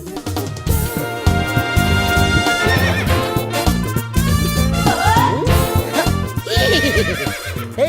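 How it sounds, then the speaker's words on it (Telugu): A horse whinnies loudly in a comedy film scene, its neighs rising over a dense music track with no speech. "ఎవడన్నా గుర్రం ఎక్కుతాడు, వీడేంటో గుర్రాన్ని ఎక్కించుకున్నాడు."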